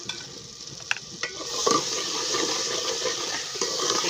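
Vegetables frying and being stirred in a salted pan give a faint, steady sizzle with a few light clinks and scrapes from the spoon.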